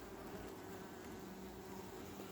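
Honeybees buzz steadily around a hive as a queen is being introduced, forming a dense, continuous drone close by with no voices.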